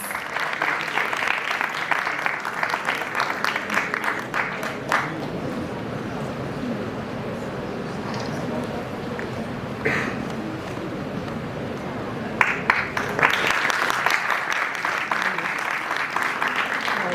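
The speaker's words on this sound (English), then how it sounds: "Please give her a huge round of applause." An audience at a startup competition stage event gives sustained, steady applause for an honoree, a dense wash of clapping that continues for many seconds with a brief swell near the end.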